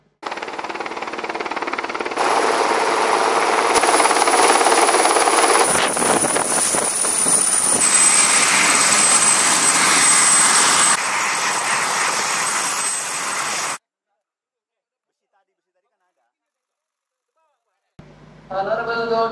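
A loud, steady helicopter engine roar drones close by for several seconds, then cuts off abruptly into silence before faint noise returns.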